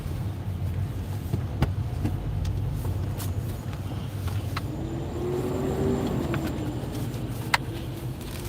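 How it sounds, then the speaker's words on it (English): Road traffic passes by outdoors as a continuous low rumble of vehicles that swells as one draws nearer, with a few sharp clicks and knocks on top and no talking. "okay, that's a lot of traffic"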